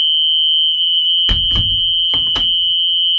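School bus warning alarm sounds because the door is not fully closed: a steady high electronic tone holds throughout, with a few brief clunks and knocks partway through.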